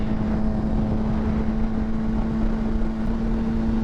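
A motorcycle engine drones steadily at about 7,000 RPM while cruising, a loud, constant high-pitched hum mixed with wind noise and no change in pitch.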